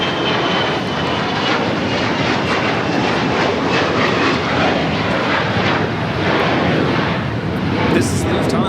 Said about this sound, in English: This is Lufthansa 456 coming in from Frankfurt on the 747-8 Intercontinental Yankee Kilo.